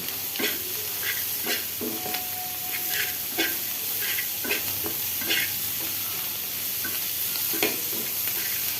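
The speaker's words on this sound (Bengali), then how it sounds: "একটু হালকা ভাজা ভাজা করে নেব।" Green chillies and spices are stir-fried in a pan with a constant close sizzle, cut through by repeated sharp scraping and stirring strokes at an irregular rhythm. No one speaks over it.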